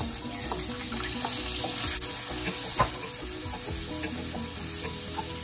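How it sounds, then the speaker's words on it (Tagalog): Chopped onion sautéing in oil that was earlier used to fry fish gives a steady, close sizzle, with occasional scrapes and clicks from stirring throughout. "dito natin igigisa yung mga sahog"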